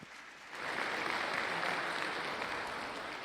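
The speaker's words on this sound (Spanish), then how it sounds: "felicitarlos con un fuerte aplauso" A seminar audience breaks into applause, the clapping swelling quickly after a brief pause and holding as a dense, steady patter of many hands filling the hall.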